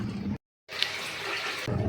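Water gushes and splashes steadily as it pours into a tank, cut off by a brief silence before flowing again at moderate volume.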